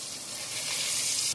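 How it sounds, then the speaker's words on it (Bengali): Four pieces of fish fry in a pan for a Bengali fish curry, making a loud, even, close sizzle that holds steadily and then cuts off abruptly at the end. "মাছ আমার প্রায় ভাজা ভাজা হয়ে গেছে।"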